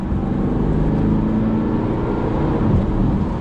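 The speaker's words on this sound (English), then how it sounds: "You can definitely feel it pulls away quite aggressively." Engine of a 2-ton Porsche Panamera 4S Diesel pulling away hard in stock mode, heard from inside the car as a steady, loud low drone with road rumble and no voices.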